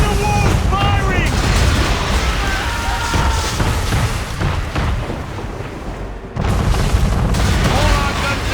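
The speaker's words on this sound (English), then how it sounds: "Man of war's firing!" Heavy cannon fire from a man-of-war warship in Assassin's Creed III, deep rumbling booms layered in a loud, chaotic naval battle din with shouting voices, briefly dropping before surging again.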